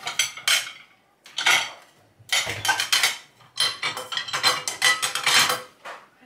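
Dishes and cutlery clatter and clink in bursts in a home kitchen as they are gathered and handled for hand washing, with short pauses between the handling, close and fairly loud.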